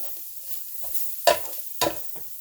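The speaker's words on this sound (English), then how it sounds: "you're just going to stir this together, get that flour nice and brown" Flour is stirred into onions browning in a pan, a soft low sizzle broken by a few scraping strokes of the spoon, two of them sharper and louder.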